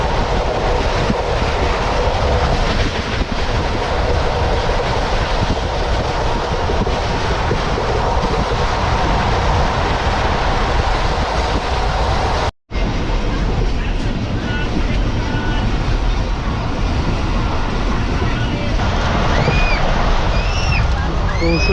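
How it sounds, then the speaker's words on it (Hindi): Pakistan Express passenger train running on the rails from Multan toward Karachi, a loud continuous rumble and rattle with rhythmic clatter, briefly cut, then resuming with faint high squeals. "कुछ इस तरह की स्पीड में ट्रेन जो है हमारी आगे बढ़ रही है"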